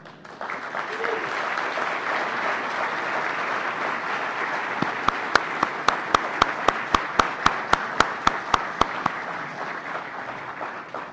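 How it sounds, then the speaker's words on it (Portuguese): An audience at the official opening of the FISL17 free software conference applauds steadily in a broad wash of clapping, which turns into a slow, loud, unified rhythmic clap toward the end. "eu vou pedir para o Ian uma salva de palmas"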